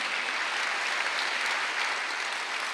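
Worshippers at a Wednesday church service break into sustained applause, a thick continuous patter of many hands clapping at an even level throughout, with no speech over it.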